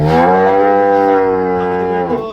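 A dairy cow lets out one long, loud, close moo with a steady low drone, fading slightly at the end.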